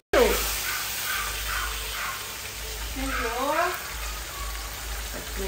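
Curry leaves and green chillies frying in hot oil in a home kitchen give a steady, close crackling sizzle that runs throughout, with voices in the background.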